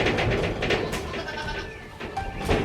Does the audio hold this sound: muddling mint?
no